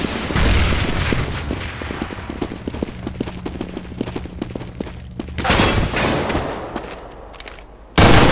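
A grenade bursts in a CS:GO match on a subway map: a sharp, loud blast near the end, after a stretch of rapid gunfire and clattering footsteps.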